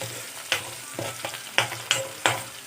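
Peas, bay leaf and green chili frying in a pan under a steady sizzle, broken by several sharp scraping knocks of a spoon stirring against the pan, close and fairly loud.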